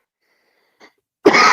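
A single harsh, loud cough bursts out close to the microphone after a brief faint sound and near silence.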